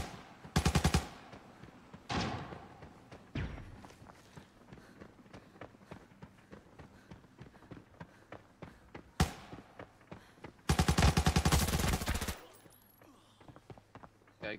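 Gunfire in the video game Arena Breakout during a data dispute event: several loud automatic bursts near the start and a long sustained burst late, with scattered single shots and footstep-like thuds between, no talking.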